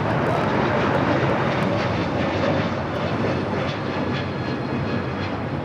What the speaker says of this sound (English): This is Hawaiian Airlines 61 taking off to Kailua Kona on the A321neo